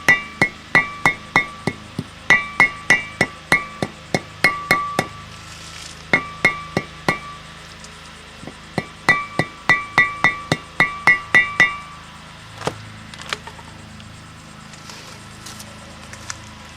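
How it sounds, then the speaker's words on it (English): A hammer taps lightly on a wheel bearing seal of a 1996 Buick Roadmaster, giving crisp metallic clinks in quick bursts of several strikes separated by short pauses, fading to a few scattered taps. "Just light tapping with a hammer. You don't want to tap too hard and bend the seal"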